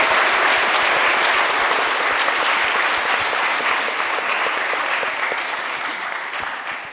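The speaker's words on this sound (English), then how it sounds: "Can we please give a massive applause?" Large audience applause after a student Q&A panel on a university campus, loud and dense from the start and tapering slightly toward the end.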